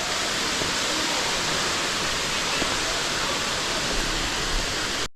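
Erawan Falls in Thailand, level 3, pours steadily in a dense, even rush of falling water that fills the whole scene without a break, loud and close throughout.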